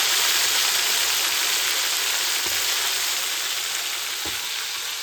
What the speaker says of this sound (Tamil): சிக்கனை ஃப்ரை பண்ண போகிறோம்